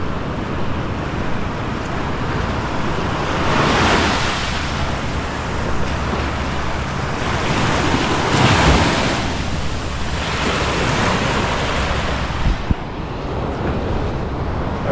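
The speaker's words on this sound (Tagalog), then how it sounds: "Medyo malalaki ang alon na yan" Waves wash and roll continuously while wind buffets the microphone, a steady loud roar with surges every few seconds.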